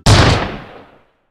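One loud, close gunshot cracks out sharply and then decays into a rolling echo lasting about a second before silence.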